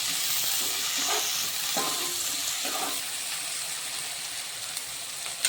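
Capsicum fries in a pan of pav bhaji base, giving a constant close hiss and sizzle that holds at an even level throughout, with a few soft stirring scrapes underneath.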